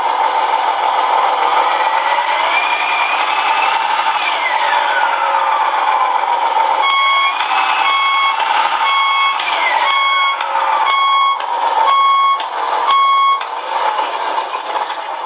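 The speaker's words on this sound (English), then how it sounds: "The backup beeper, totally annoying and way too loud." A loud, steady reversing beeper from an RC semi-truck sound controller sounds in regular repeated tones over a continuous engine hum, with no one talking.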